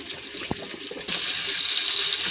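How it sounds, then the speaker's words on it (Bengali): Potatoes go into hot oil in a wok: after a quieter second with a small knock, a sudden loud sizzling hiss starts and stays steady to the end. "আলুটা ভেজে নেব।"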